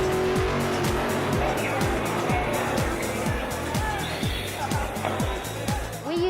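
Robotic radio-controlled race cars racing, a steady loud whine of motors with repeated rising and falling passes and tire squeals, continuous and close, with a voice faintly underneath.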